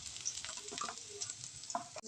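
Katla fish pieces frying in hot oil in a home kitchen, soft crackling sizzle with brief stirring scrapes, quiet and close, no talking.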